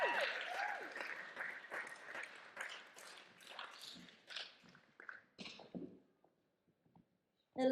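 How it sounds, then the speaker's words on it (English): Applause for the contestants at the Miss Earth beauty pageant final: faint, scattered clapping from an audience that breaks into uneven bursts, dies out to near silence and leaves a short gap before one last sound. "So a big round of applause for all the ladies and their efforts tonight."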